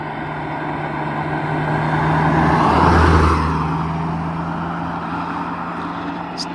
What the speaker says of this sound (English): Something coming along and it's another Ferrari.